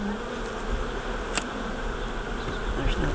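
Steady, continuous buzzing of many honeybees around a hive close by, a dense droning hum with a brief sharper sound partway through.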